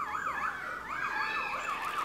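A lyrebird mimics a car alarm, with a loud, continuous warbling tone sweeping rapidly up and down in a repeating electronic cycle.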